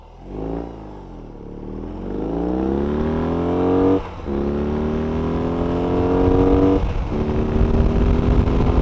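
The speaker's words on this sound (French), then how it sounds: "Et si je vous faisais un gros départ bien énervé, attention, 3, 2, 1." A BMW R18 First Edition motorcycle makes a hard launch from a standstill, its big boxer engine revving up loudly and close through several rising gear pulls, with short dips at each shift and no voices.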